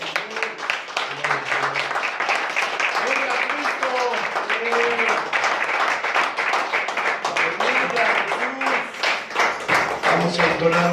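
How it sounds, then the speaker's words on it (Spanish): Church congregation applauding at an evening service, with steady, rhythmic clapping from many hands and voices calling out over it throughout. "Vamos a darle un fuerte aplauso al Señor en esta noche."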